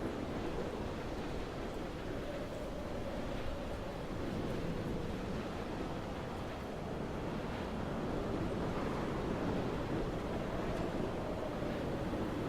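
Strong wind rushes across an exposed high place in the video game Dear Esther, a steady, full roar that holds for about twelve seconds with no voices.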